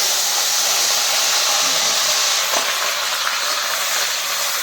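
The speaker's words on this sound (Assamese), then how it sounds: "এতিয়া এই পনীৰটো ভাজিলোঁ" Paneer fries in hot oil with a loud, steady hiss and crackle that holds without pause from start to finish.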